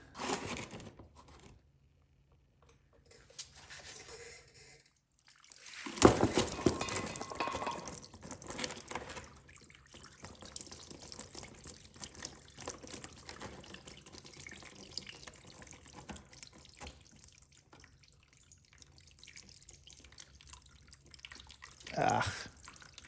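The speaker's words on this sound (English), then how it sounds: "And the dripping begins." Fluid drips from removed Bosch K-Jet intake parts during a complete intake disassembly, with faint irregular drips and trickles, a couple of louder splashes and clatters, and quiet handling noise in between.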